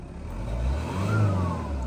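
The engine of a BMW E36 project car runs steadily nearby with a low, rough hum that swells slightly partway through. No one speaks.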